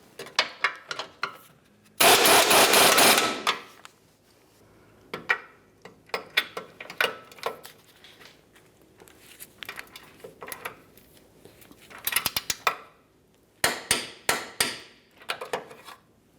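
Ratchet wrench clicking while tightening a control arm bolt on a Ford Flex, with bursts of rapid ratcheting and a loud mechanical rasp near the start, interspersed with metallic taps and clanks.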